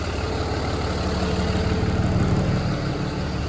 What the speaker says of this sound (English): My truck's running over here.